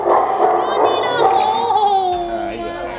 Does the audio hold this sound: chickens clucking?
no